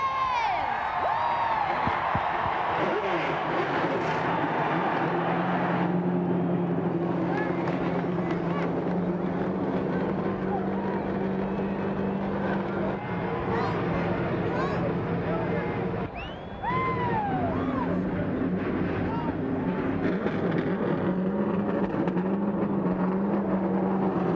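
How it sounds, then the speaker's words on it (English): Dozens of NASCAR Winston Cup stock car engines fire up at Daytona International Speedway for the 2001 Pepsi 400, a sustained loud mechanical roar blended with crowd noise and voices over the track. "Gentlemen, start your engines!"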